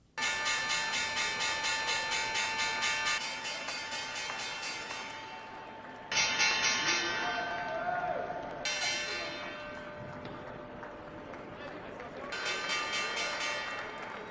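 A stock exchange closing bell rings loud and sustained, with clanging tones pealing in several long bursts and brief drops between them. Voices and crowd noise sit underneath.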